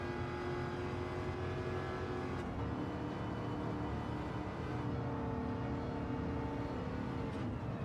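A Daytona Cobra Coupe race car's engine drones steadily in Gran Turismo 7, a sustained, even roar with layered tones that holds at a constant level through the whole stretch without a voice.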